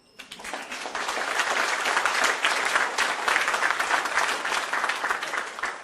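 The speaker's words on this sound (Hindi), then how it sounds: "ताली नहीं बजाओगे?" An audience at a training session breaks into sustained applause, dense steady clapping rising quickly and holding loud and even, with no talking over it.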